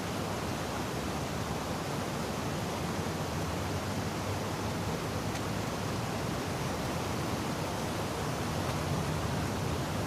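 Steady, dense rushing of flowing water current in the sewers of The Last of Us Part 2, a continuous broadband wash that holds even and close throughout with no talk over it.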